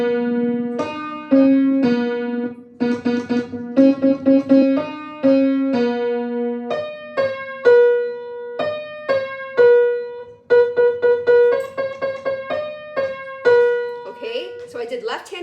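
Piano plays the simple tune Hot Cross Buns as a beginner lesson, first with the left hand then the right, clear separate notes in steady rhythm with short pauses between phrases.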